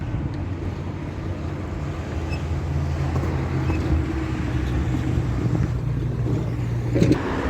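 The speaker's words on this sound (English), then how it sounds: "Do I see a bus coming? No, that's an ice cream van." An ice cream van drives past on a road in Gómez Palacio, Durango, Mexico, a steady low engine rumble with wind buffeting the microphone that swells slightly near the end.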